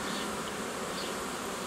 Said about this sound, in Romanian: acum sunt iar între albinuțe